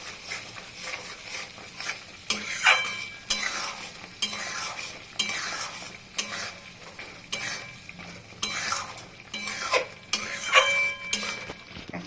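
Spices are stirred in a hot pan for egg curry over a lowered gas flame, a spatula scraping in repeated rhythmic strokes over a constant frying sizzle, close and clear.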